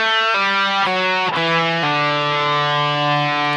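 Distorted electric guitar picking a single-note riff, a handful of sustained notes stepping downward, loud and alone.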